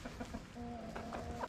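Chickens cluck in a backyard coop after a storm, a rooster among them, with short repeated clucks and a sustained tonal call close by and moderately loud, no speech.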